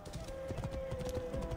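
Hoofbeats of a horse galloping in the video game Assassin's Creed Origins, a steady rapid clip-clop running throughout over a sustained background tone, close and fairly loud.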